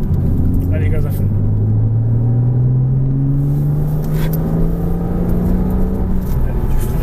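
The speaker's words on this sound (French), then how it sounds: "Et on débraque, on accélère. Allez, gaz à fond." A car engine accelerating at full throttle, a loud close rising drone that climbs steadily in pitch across several seconds, with a voice speaking over it.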